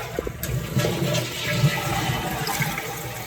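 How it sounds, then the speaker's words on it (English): A toilet tank flushes nearby, water rushing and gurgling steadily down the bowl for a few seconds. "You flush your tank out."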